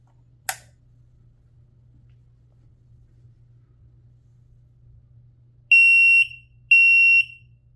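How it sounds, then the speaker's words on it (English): An Amseco HW-24 Select-a-Horn sounds a 3000 Hz temporal tone: two loud, pure electronic beeps of about half a second each, evenly spaced, after a brief click and low hum. "here is 3000 hertz temporal"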